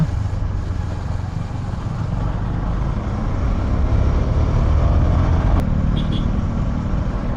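A KTM Duke 250 BS6 motorcycle engine runs loud and steady throughout, a dense continuous roar that swells slightly without sharp revving peaks.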